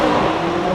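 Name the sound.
McLaren 570S accelerating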